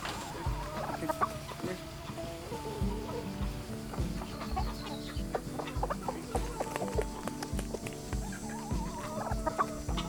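Several chickens clucking and murmuring nearby, overlapping calls in an irregular rhythm against a busy farmyard background.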